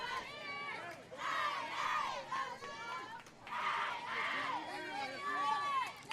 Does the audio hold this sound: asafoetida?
no